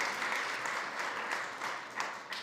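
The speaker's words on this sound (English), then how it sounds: "Please give Jared a round of applause for being such a great inspiration" Audience applause at a food summit panel at SXSW 2025, a steady dense wash of clapping from a crowd, fairly even in loudness throughout with a few swells, no talking over it.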